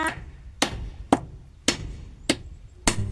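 Six sharp hammer blows drive nails into timber while a cattle pen is built, spaced unevenly about half a second apart, close and loud against a quiet outdoor background.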